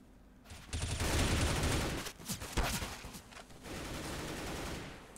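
Overwatch gunfire, a dense crackling volley of rapid shots with bursts and brief breaks, fairly faint and steady throughout.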